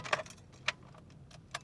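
Car keys jangling in a few short metallic bursts, close and fairly quiet, with brief pauses between shakes inside a car.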